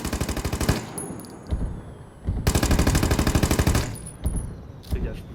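A weapon is hip-fired in a video game, producing loud, close bursts of rapid automatic gunfire in several long volleys separated by short pauses.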